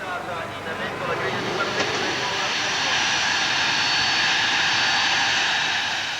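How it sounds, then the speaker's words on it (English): A private jet flies in toward Milan, its engine roar a loud, steady broadband wash that holds close and constant throughout, with no speech over it. "Ayrton Senna flies into Milan in his own private jet"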